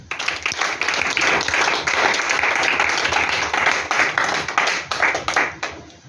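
A church congregation bursting into loud, close applause: continuous crowded hand claps that hold strong before thinning into scattered claps near the end.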